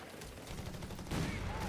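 Machine gun fire in the Company of Heroes 3 battle game: a brief rattle of rapid bursts that swells louder near the end, mixed with battle noise and faint talk.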